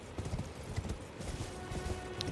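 Horse hooves clip-clop in steady, rapid rhythm in the video game Elden Ring, close and clear, with a faint whinny-like tone near the end and no talking.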